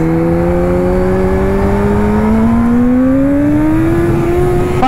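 A Kawasaki Z H2 motorcycle engine drones steadily while riding, its pitch climbing gradually as the bike accelerates, loud and close with constant wind rush and no talking.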